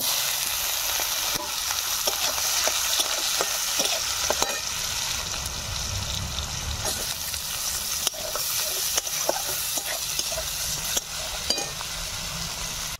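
Chopped onions fry in hot oil with bay leaf, sugar and cumin in a karahi for egg curry, a steady dense sizzle with occasional clicks of stirring throughout, close and alone.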